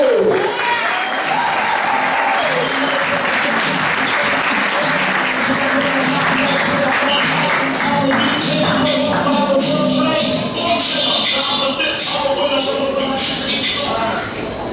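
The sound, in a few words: applause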